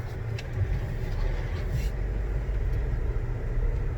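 A car rolls down a road with a steady, loud low rumble of engine and tyre noise heard from inside, continuous and even throughout with no talking.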